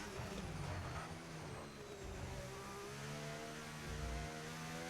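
Race car in a racing video game at Silverstone, engine note dropping under braking then climbing hard again as it accelerates, a steady loud harmonic whine throughout.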